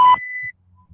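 A single steady phone voicemail beep sounds at the start, loud and clean, then cuts off into near silence with faint low rumbles.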